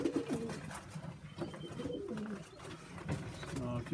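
Sheffield Tippler and Pilot-cross pigeons coo in a loft, low throaty burbling calls repeating close by with light fluttering and shuffling, quiet throughout.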